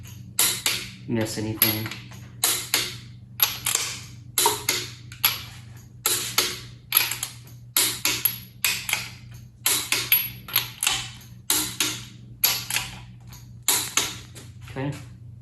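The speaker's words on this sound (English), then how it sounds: "we've got our torque wrench set to 110 pound-feet" A torque wrench set to 110 pound-feet clicks repeatedly while going over oil pan bolts on a Ford 351C engine, giving a steady series of sharp, close ratchet clicks and taps, with someone talking briefly.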